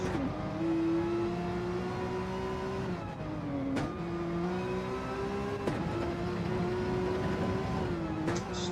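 Porsche race car engine in a GT3-class sim racing game at the Nürburgring Nordschleife, droning loudly and steadily at high revs with brief pitch dips at gear shifts, a continuous near engine note throughout.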